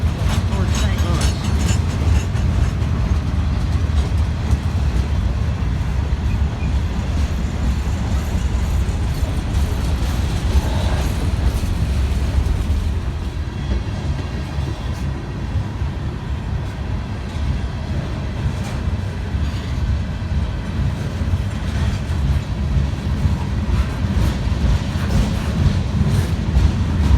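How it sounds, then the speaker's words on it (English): Westbound freight train headed toward St. Louis, with cars carrying new Toyotas, rumbles past at close range in Princeton, Indiana, its rolling, clattering noise steady and loud, dipping slightly midway before swelling again. "This train is headed west towards St. Louis."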